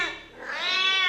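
A single drawn-out cat meow, close and clear, rising and holding in a plaintive tone for about a second on a television talk show set.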